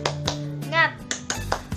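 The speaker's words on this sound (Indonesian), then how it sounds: "Tepuk semangat." Children in a sixth-grade class doing a rhythmic tepuk semangat clap, a few sharp patterned claps spaced through the moment with a short sung or chanted voice in the middle.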